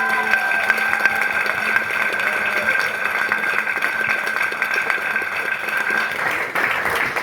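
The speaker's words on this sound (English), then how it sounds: "I think he deserves a round of applause" Wedding guests applaud steadily at a reception, a dense, sustained clapping from a crowd that fills the whole stretch without letting up, close and fairly loud.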